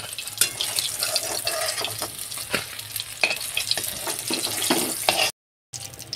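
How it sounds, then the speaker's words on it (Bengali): Pangas fish fries in hot oil in a wok, a dense close sizzle broken by scraping stirs and clattering spatula knocks, steady and loud before cutting out abruptly near the end. "এখন এটাও আমি লাল লাল করে ভেজে নেব"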